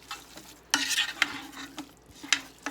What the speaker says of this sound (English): so now I got to start stirring it here and there.